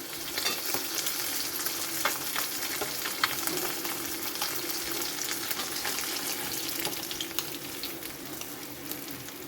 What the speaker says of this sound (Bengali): আরও কই মাছকোনা ভেজে নিচ্ছি।